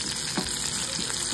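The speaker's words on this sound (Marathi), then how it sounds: "ही छान अशी लसूणची फोडणी बसेल आपल्या भाजीला" Plenty of garlic cloves fry in hot oil in a kadhai for a tempering, giving a loud, steady sizzle and crackle with a few soft pops and no voices.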